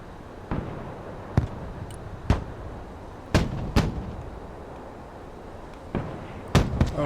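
Mortar rounds land in the Broken Arrow war game as a string of sharp, booming blasts, about ten of them at irregular intervals, some paired close together, heard at middle distance over a low background rumble.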